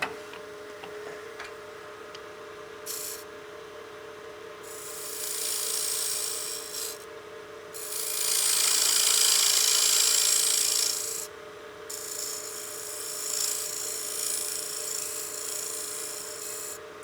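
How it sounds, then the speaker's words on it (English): A skew negative rake scraper cuts on a wood lathe while turning the foot of a utility box, a steady hum under bursts of close, loud rasping scrape that rise and fall over several passes. "Come in here with my skew, negative rake scraper."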